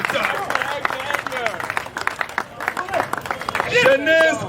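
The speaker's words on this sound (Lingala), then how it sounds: "Acclamez encore pour le chef de l'État" A crowd at a Congolese political gathering claps and cheers for the head of state in a dense, continuous patter. Loud, excited voices shout over it throughout, rising at the end.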